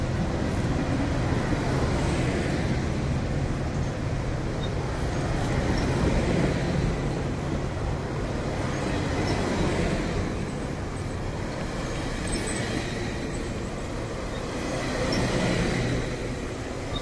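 Steady interior rumble of a West Coast Express double-decker commuter train in motion, a continuous loud drone of wheels and carriage noise with gentle swells and no talk.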